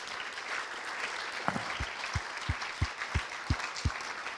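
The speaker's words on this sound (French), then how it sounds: "qu'on peut applaudir" Audience applause at a film-and-debate screening, a diffuse patter of clapping, with a series of regular low thumps partway through, none of it loud.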